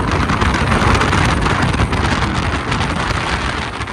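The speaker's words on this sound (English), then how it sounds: "it is so windy" Strong wind at the top of a tower in Copenhagen buffets the microphone in a constant, loud roaring rush, with no voices.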